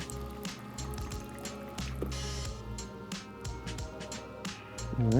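Hot water at 200 degrees dispensing from a Fellow Espresso Series 1 machine into a glass, a continuous close trickle over a steady low machine hum, with a rising gurgle at the end.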